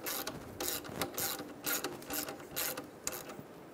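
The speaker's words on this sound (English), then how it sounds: "Snug it down." A ratchet wrench snugging down a nut on a 2007-2012 Nissan Altima engine water pump, giving rapid pawl clicks in several short repeated bursts, close up and clear with no talking.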